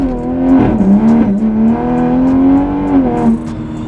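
A 2020 Toyota Supra on a cold day of around 40 degrees, struggling for grip, gives a close, steady engine drone that rises and dips with throttle, a few quick revs breaking the tone.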